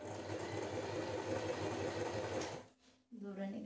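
An Usha automatic electric sewing machine runs steadily at close range, stitching in a continuous hum, then stops briefly before starting again.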